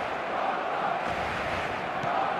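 A stadium crowd in the eFootball video game roars steadily, a broad continuous wash of many voices with no clear individual words, holding at a constant loud level.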